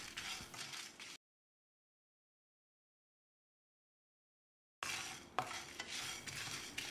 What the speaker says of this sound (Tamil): இது எல்லாத்தையும் செவந்து வர்ற அளவுக்கு வதறலாம்.